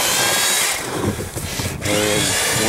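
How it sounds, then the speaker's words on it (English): A power drill bores a hole through the outside wall of a house, a loud, close, continuous high whine with grinding that dips briefly in the middle before resuming at full strength. "we'll drill a hole here"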